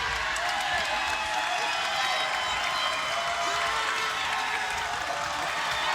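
A wrestling crowd applauds in a standing ovation, dense steady clapping and cheering filling the arena at constant loudness, with commentary faintly beneath.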